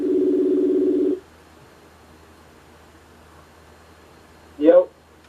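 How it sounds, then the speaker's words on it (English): An outgoing telephone call rings back with one long, steady electronic tone, then the line goes quiet before a brief voice sounds near the end. "The phone is ringing."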